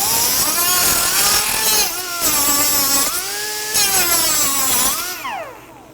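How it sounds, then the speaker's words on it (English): A power tool saws through a piece of an off-road suspension lift part, a loud continuous grinding whine with pitch dips as the blade bites, running steadily and trailing off at the end. "that's where we're going to cut this piece off at, is right across there"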